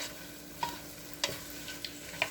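A spoon stirs chicken pot pie filling with carrots in a pot, producing a few soft scraping clinks at an irregular pace over a faint steady sizzle.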